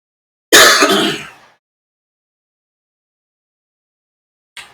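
A single harsh cough burst, close and fairly loud, lasting about a second, followed by silence and a faint click near the end.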